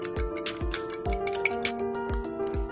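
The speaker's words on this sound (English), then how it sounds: "Add the egg whites. Whisk with a fork while adding to the mixture." A fork whisks egg whites into a batter mixture in a bowl, making a steady run of light clinks and taps about every half second over a faint sustained tonal background.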